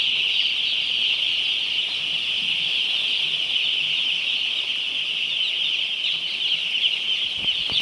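Young chicks in a poultry shed, three days old, keep up a dense continuous chorus of high peeping and cheeping close by, steady throughout with no talking.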